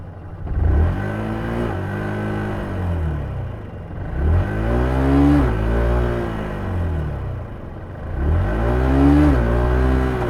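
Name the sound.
Yamaha R125 motorcycle engine revving during wheelie attempt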